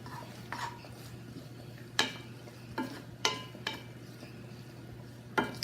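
Beans simmering in a pan with garlic and onions, with a low steady bubbling bed and a few sharp spoon-on-pan clinks as they are stirred at irregular intervals, close and moderately quiet.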